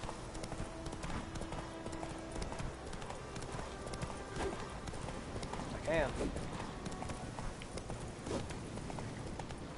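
Horse hooves clip-clop in a video game, a steady trotting rhythm of hoofbeats running throughout while a person talks over them.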